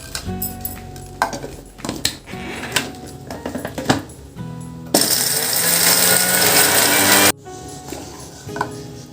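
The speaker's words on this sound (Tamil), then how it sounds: "தேங்காய் துருவல், முந்திரி பருப்பு, பச்சை மிளகா, இஞ்சி, ஜீரகம் எல்லாம் போட்டு நைஸாக அரைச்சிக்கலாம்" Clinking and clattering of kitchen utensils, then a loud, steady mixer grinder whir grinding grated coconut, cashews, green chillies, ginger and cumin, running about two seconds before cutting off abruptly.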